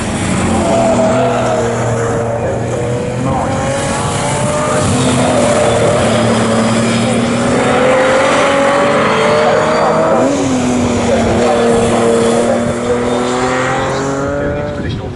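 Pre-1963 and pre-1950 historic race cars lap the Snetterton circuit, their engines roaring loud and continuous with rising and falling revs as several cars pass close together, under a commentator's talk.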